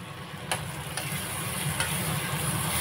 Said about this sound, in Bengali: চিকেনটা মোটামুটি আমার মশলা দিয়ে কষানো হয়ে যাচ্ছে দেখো